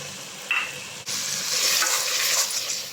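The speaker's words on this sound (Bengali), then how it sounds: "এর মধ্যে আমি দিয়ে দেবো কাঁচা লঙ্কা আর টমেটো বাটা। এটা দিয়ে আমি ভালো করে কষিয়ে নেব।" Ginger garlic paste with green chili and tomato paste fries in hot oil. A brief tap is followed by a loud, steady, close sizzle that swells and hisses continuously.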